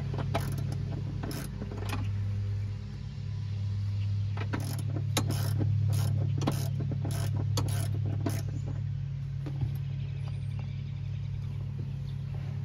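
Ratchet wrench working a bolt loose from the airbag module of a 1999–2006 Chevy/GMC truck, repeated bursts of clicking pawl strokes over a steady low hum, close and fairly loud.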